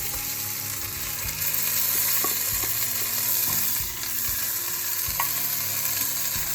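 Onion and tomato fry in oil in a pan for mutton biryani, a steady close sizzle broken by a few scrapes and stirs, with no talking.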